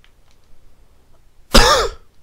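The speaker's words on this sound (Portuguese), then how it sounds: "Eu tô gripado, tossindo." After near silence, one harsh, raspy cough bursts out close by, loud and brief, from someone with the flu.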